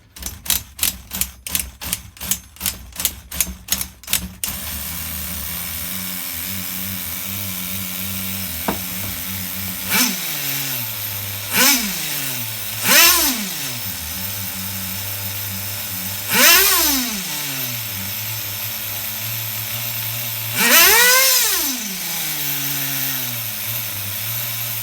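Small nitro engine of an HPI RS4 Nitro F150 RC car being bench tuned, opening with a rapid burst of sharp pulses. A steady buzzing idle follows, broken by several rising and falling revs.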